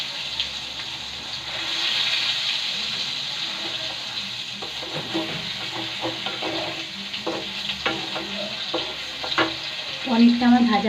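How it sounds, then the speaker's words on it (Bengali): Paneer fries in a pan with a steady, close sizzle, joined by scraping and stirring clatter that grows busier toward the end. "চলো এখন আমি পনিরটাকে একটু ভেজে নিই পিট পিট করে লাল লাল করে"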